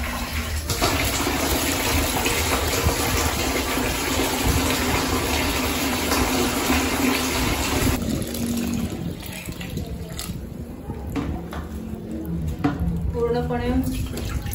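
Water pours steadily into a container to soak newly bought clothes, a loud continuous gush that thins out partway through into lighter splashing and trickling.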